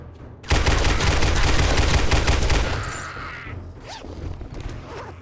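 An M60 machine gun in 7 Days to Die fires one loud sustained burst of about two and a half seconds of rapid, evenly spaced shots, followed by a fading tail and a few quieter mechanical clicks.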